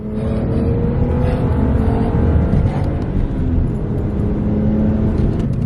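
A BMW, a project car stiffer than an E36, drives steadily with a continuous low engine drone and road rumble inside the cabin, holding a constant loudness for the whole stretch with no talk.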